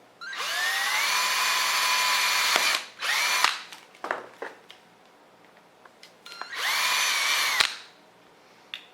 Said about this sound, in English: we're just going to go ahead and drill a hole in the center